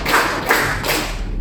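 A group of students gives a short round of clapping in a classroom as a cheer for a good answer, with a few soft bursts of hand claps and no voices over it.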